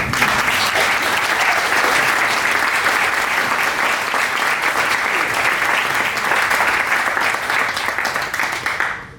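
An audience at a land trust talk welcomes Dean Moss with loud, sustained applause: dense, even clapping that holds steady for several seconds and then starts to fade at the end.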